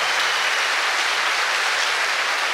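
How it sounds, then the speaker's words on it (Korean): Concert audience in a Korea University hall breaks into loud, sustained applause, a dense even roar of many hands clapping close and continuous throughout, with no voices. "뜨거운 박수 여러분 부탁드립니다."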